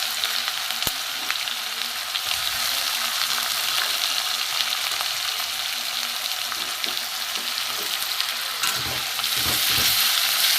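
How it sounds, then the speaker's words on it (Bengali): Onion paste and garlic paste frying in oil in a pan, a dense continuous sizzle that stays close and loud, with occasional stirring scrapes near the end. "পেঁয়াজটা একটু ভালো করে ভেজে নেব।"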